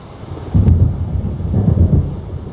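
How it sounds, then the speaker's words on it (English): A thunderstorm in the video game Alan Wake: low, heavy rumbles of thunder rolling in two swells over a steady wash of rain, with no voices. "It seems there's a storm coming."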